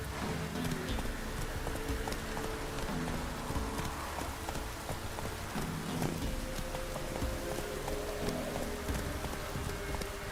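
Geralt's horse Roach in The Witcher 3 trots with a steady, continuous clip-clop of hooves, heard under a constant wash of falling rain.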